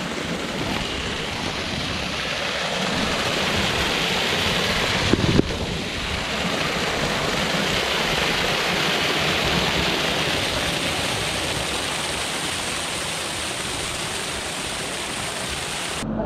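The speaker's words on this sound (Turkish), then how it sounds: "Burada gördüğünüz akan su. Arka tarafta da aynı şekilde su akıyor." Water flows steadily into a clean swimming pool, a continuous broadband rush that stays even throughout, with one brief knock partway through.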